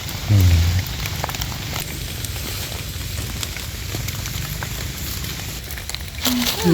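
Rain falling in a forest, a steady patter and hiss of drops on leaves and ground that continues without a break, with a few louder knocks near the start and end.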